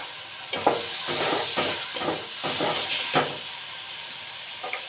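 Karamcha fruit sizzling in hot oil tempered with mustard seeds and dried red chilli, a close, hissing sizzle broken by several bursts of stirring, with no voices.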